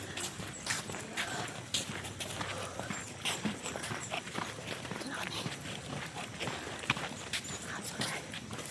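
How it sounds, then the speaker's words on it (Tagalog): A white horse walks past with steady, fairly quiet hoof clip-clops on hard ground, while people chatter faintly in the background. "White horse."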